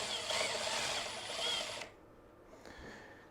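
A Milwaukee M12 FUEL driver drives a bolt home in a steady whir for nearly two seconds, then cuts off abruptly, followed by a faint mechanical rattle and click.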